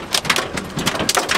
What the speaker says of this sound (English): We're getting pelted by hail now.